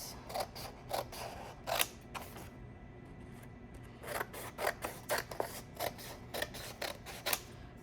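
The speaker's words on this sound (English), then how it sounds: "And then I'm gonna cut them" Scissors cutting stacked construction paper into strips, a series of crisp snipping cuts in clusters with short pauses, close and fairly quiet.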